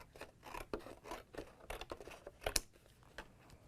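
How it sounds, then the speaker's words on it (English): Quiet, close scissors snipping through stiff board, a series of uneven crunching cuts with small pauses between them. "take my scissors and cut a square out of my chipboard"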